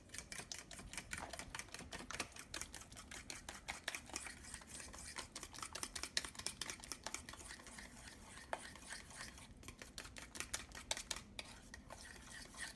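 Two eggs whisked briskly in a bowl for salmon patties, a fast, steady run of light clicking and scraping that goes on without a break and with no talking.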